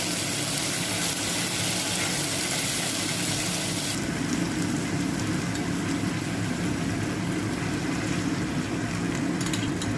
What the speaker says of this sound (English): we'll saute 1 tablespoon of garlic